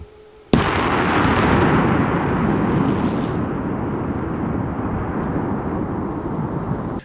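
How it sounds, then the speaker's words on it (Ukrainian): A controlled detonation of an explosive warhead in a field using a placed explosive charge: a sudden sharp explosion bursts out, followed by a long, loud roaring rumble that slowly fades over several seconds. "здійснили її знищення з допомогою накладного зряду вибухівки неподалік від місця виявлення"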